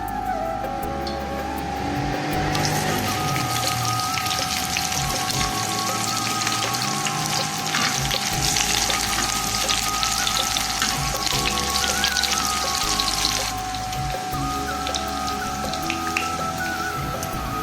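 Onions frying in hot ghee for a tawa aloo dish, a steady crackling, rain-like sizzle holding close and even throughout, with a faint constant tone underneath.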